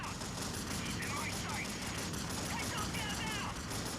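Rapid video game gunfire crackles in dense bursts over a constant loud game soundtrack, with a voice faintly audible underneath.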